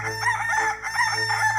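A human voice imitates a rooster crowing, a drawn-out cock-a-doodle-doo call with rising and falling pitch, close and fairly loud over a low steady hum.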